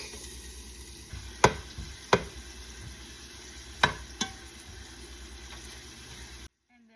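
Onion and garlic frying in hot oil in a home kitchen while cooking pancit, a steady low sizzle with a few sharp clanks of a utensil against the pan, ending abruptly in silence.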